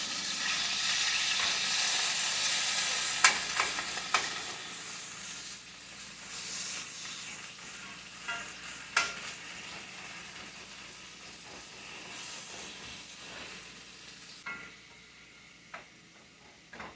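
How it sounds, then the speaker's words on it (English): Organic ground beef fries in olive oil in a skillet, producing a soft, steady sizzle and hiss with occasional light taps of a utensil, fairly quiet and without talk. "We've got our organic ground beef in the skillet with"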